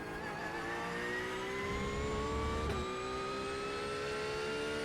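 Cold brakes on an iRacing race car give a steady, rising whine that runs throughout, layered over a loud, continuous engine drone with no talking.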